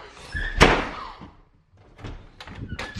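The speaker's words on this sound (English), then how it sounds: "I know you ain't slamming no damn doors in my house" A door slams once inside a house, a sharp, loud, close bang followed by a short rattle, then softer knocks and thuds after a brief quiet.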